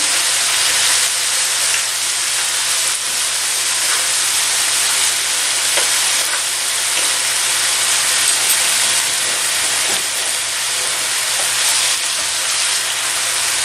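Catfish fillet frying in a pan, a continuous loud sizzle and crackle with occasional faint clicks and scrapes of utensils against the pan.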